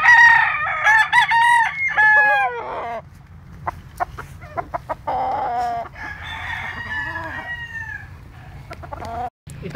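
A Cowan roundhead gamefowl rooster with yellow legs crows in long drawn-out calls, mixed with clucking and other chicken calls, loud and near, over a steady low background hum.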